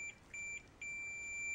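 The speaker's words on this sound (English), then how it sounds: "So I'm getting a beep now." A multimeter on diode test beeps in three clean tones while probing a Schumacher XP2260 portable power pack. The first two beeps are short and broken by brief gaps, and the last one holds steady.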